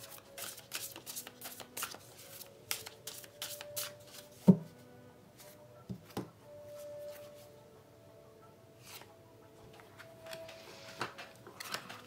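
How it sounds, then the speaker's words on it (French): Tarot cards being shuffled by hand in a quiet room, with a run of crisp riffling flicks and soft card taps and one sharper knock midway, close and fairly faint. "Je vais brosser les cartes"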